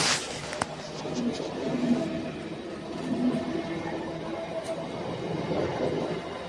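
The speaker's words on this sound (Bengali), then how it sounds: "ট্রেনে যাত্রা খুব ভালো লাগে বলো এরকম করে ট্রেন যায়" Passenger train ride near Ranaghat in West Bengal, heard from a window seat inside the carriage: continuous rumbling rail noise with a low steady roar and faint rattles, no talk.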